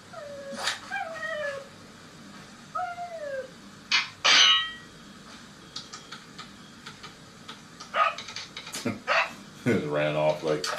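Dog in the Resident Evil 4 VR game giving a few scattered yelps and whimpers between clanks and ticking game sounds, fairly close and moderate in level, with people talking at times.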